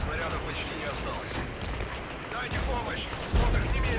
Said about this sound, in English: We are now getting hit by enemy counter battery fire